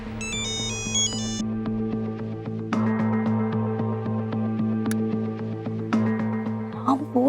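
A bright electronic mobile phone ringtone melody chimes for about a second and a half at the start, then fades under a steady background drone with occasional clicks.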